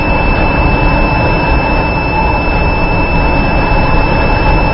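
A biosafety cabinet's supply fan runs steadily with the exhaust valve closed and the exhaust blower off, giving a loud, unbroken whooshing roar with a fixed high whine throughout and no talk.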